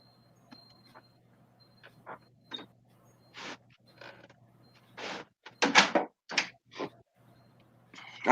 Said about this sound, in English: I'll let you out. I ain't leaving the door open.